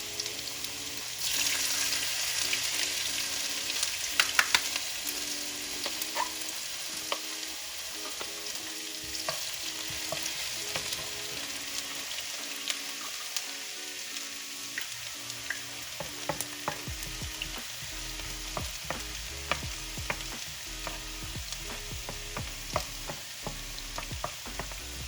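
Celery and ginger fry in a pan for pineapple chicken, a continuous close sizzle broken by frequent scraping and clattering from stirring, with a brief louder burst early and no talking.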